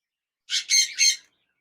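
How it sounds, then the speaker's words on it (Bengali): A pair of zebra finches gives one short, close burst of three nasal, squeaky chirps in quick succession, set against silence. "এখানে দেখতে পাচ্ছেন একজোড়া জেব্রা ফিন্স পাখি রয়েছে"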